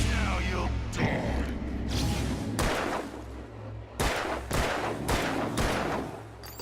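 Gunshots fired in the Alan Wake video game, several sharp loud bursts spread across the stretch, some spaced a second or so apart, over a low droning game backdrop.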